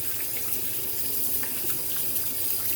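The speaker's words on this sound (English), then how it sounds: "let me rinse my hands off" Water streams steadily from a tap while hands are rinsed under it, a close, continuous hiss and splash with small shifting gurgles.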